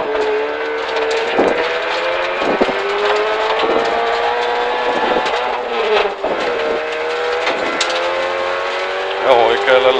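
Rally car launching from the start at a Finnish rally stage in Perniö, Salo, engine revving loud and close with rising gear-pitch sweeps and brief shifts, heard from inside with a co-driver talking.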